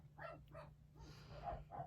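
Dogs barking in the background, several short bursts spaced through the moment over a steady low hum.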